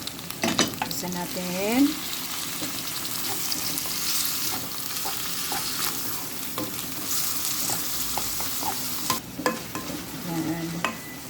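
Minced pork hits a pan of fragrant garlic and onion, sizzling steadily with frequent stirring scrapes, and a few brief words are spoken.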